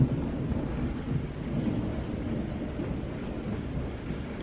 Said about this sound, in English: Nothing better than fall thunderstorms.